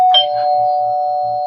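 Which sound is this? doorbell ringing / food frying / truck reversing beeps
doorbell ringing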